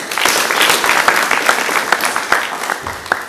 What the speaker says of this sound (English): can we give them all of us a clap?